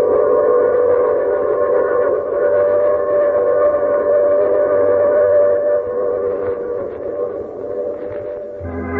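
A train sound effect in an old radio drama: a long, loud, sustained whistle-like tone with rumbling beneath it, holding steady for several seconds before wavering and fading slightly near the end.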